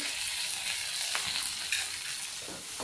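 Green chili, garlic and tomato pieces frying in a spoonful of oil for ridge gourd chutney, a steady close sizzle with light stirring scrapes and a couple of soft clicks, fairly quiet, no voices.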